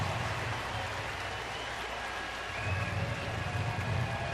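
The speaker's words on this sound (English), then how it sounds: "They will stand and cheer on Blake Wood with 2 outs in the ninth." A crowd of about 14,000 at a Kansas City baseball stadium rises and cheers for a pitcher with two outs in the ninth, a steady distant roar and applause under a broadcaster's voice.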